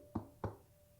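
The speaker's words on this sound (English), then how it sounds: "And then, the knocking started again." Two sharp knocks on a door land about a quarter second apart, solid and close, then fade into a quiet room with a faint steady hum.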